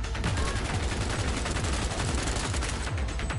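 Sustained automatic gunfire from a video game shootout in Cyberpunk 2077: Phantom Liberty, a dense, continuous loud rattle of rapid shots throughout with no pauses.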